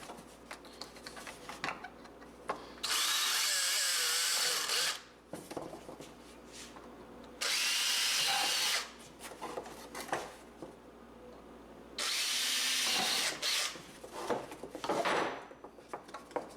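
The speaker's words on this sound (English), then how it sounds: "You need to drill that with a 3/16 drill bit from the back side." Power drill fitted with a 3/16 bit boring holes from the back side of a Polaris Ranger cab panel, three loud whirring bursts of a few seconds each separated by quieter handling clatter.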